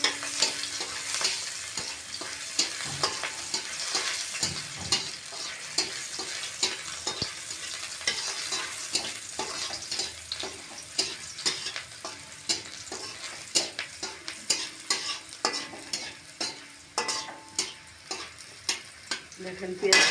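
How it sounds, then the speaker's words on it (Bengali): Chopped onion frying in oil in a pan, a continuous close sizzle broken by frequent rhythmic scrapes and clacks of a stirring spoon, with no talking. "পেঁয়াজটা ভালো করে ভাজা নেব।"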